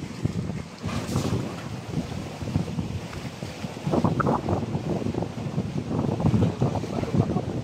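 A boat travels across the open sea, engine rumble and water rushing beneath heavy wind buffeting the microphone, steady and loud throughout, with a surge of splashing wave noise partway through.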